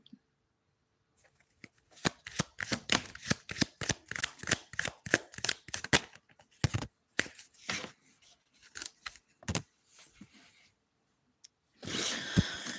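Tarot cards shuffled by hand in quick, crisp riffling bursts, close and clear, pausing briefly midway and again near the end before a final rustling flurry, with no talking.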